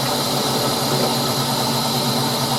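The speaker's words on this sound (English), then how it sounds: "Taking as much out with a Forstner bit as I can" A Forstner bit bores out the hollow of a wooden goblet blank, giving a steady, continuous grinding whir that holds an even level throughout with no pauses.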